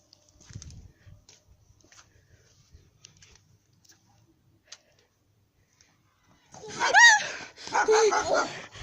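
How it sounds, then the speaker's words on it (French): A dog barks twice in quick succession near the end, loud and close, after several seconds of near silence with a few faint ticks. "Là, il y a un chien"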